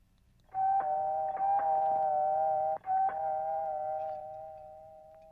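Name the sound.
doorbell ringing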